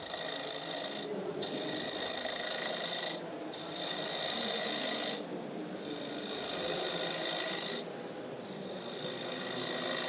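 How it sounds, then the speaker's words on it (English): Lathe gouge cutting away waste timber while shaping a wooden bowl, a continuous rasping scrape in several long passes with brief dips between, close and steady. "we'll start removing some timber to create the bowl shape"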